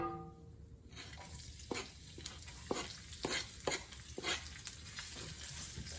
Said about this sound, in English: And saute again together with the peppercorn